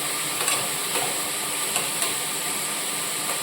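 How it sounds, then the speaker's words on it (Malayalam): Ginger garlic paste and green chillies frying in a hot pan for egg rice, a steady loud sizzle and hiss with faint scraping stirs throughout. "ചെറുതായിട്ടൊന്ന് ചൂടാക്കി അതിനുശേഷം നമുക്ക് ഇഞ്ചി വെളുത്തുള്ളി പേസ്റ്റ് പച്ചമുളക്"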